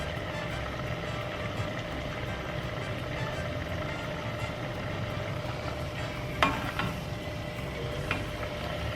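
A taco shell tortilla fries in hot oil while tongs hold it open, giving a steady, moderately loud sizzle and bubble throughout, with a couple of brief metallic clicks from the tongs near the end.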